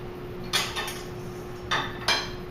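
A metal spoon clinks and scrapes against a pot of boiling gumbo being stirred, with a few distinct close taps spaced over a low steady kitchen hum.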